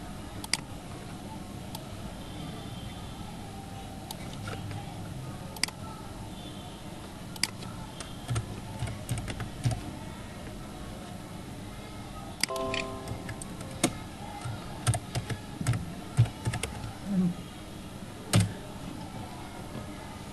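Someone types a search on a computer keyboard, with sparse, faint clicks early on that grow into quicker bursts of keystrokes toward the end, close but quiet over a low room hum, with no talking.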